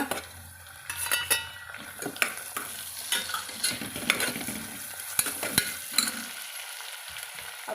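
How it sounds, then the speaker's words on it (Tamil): Onion and tomato sauté in a pan for vegetable biryani, with a low sizzle under repeated sharp metal spatula scrapes and clanks against the pan in an irregular rhythm, close by and with no talking. "அதையும் நல்லா பச்சை வாசம் போக வதக்கலாங்க வதக்கிட்டு வெட்டி வச்சுக்கிற தக்காளியை போட்டுக்கிறேங்க"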